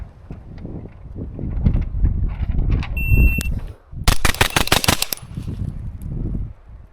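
Rapid string of gunshots from a Glock 19, AR-15 or Sig MPX-K fired at a target dummy on an outdoor range, a loud close volley of about eight sharp cracks after a stretch of wind noise.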